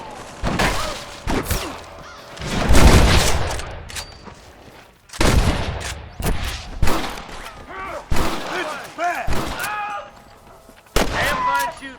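Repeated gunfire in the Western video game Red Dead Redemption, a loud shootout of sharp shots and bursts with brief lulls, some talk mixed in.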